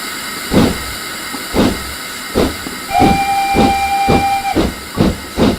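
A steam locomotive pulling away in Train Simulator 2016, with loud, regular exhaust chuffs pulsing under a constant hiss and a sustained steam whistle blowing through the middle.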